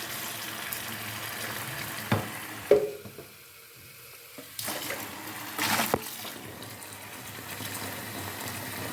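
Water is poured into a container of soaking vegetable and fruit peels, among them onion skins and pomegranate rind, to make an orchid fertilizer. A close, steady rushing pour breaks briefly in the middle and then resumes.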